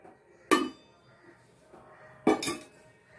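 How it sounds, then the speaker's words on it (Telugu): A pan set down on a stovetop, two sharp metallic clanks separated by quiet, with a faint clink as coconut oil goes in. "ఈసారి స్టవ్ మీద ప్యాన్ పెట్టుకుని కొంచెం కోకోనట్ ఆయిల్ వేసుకుందాం."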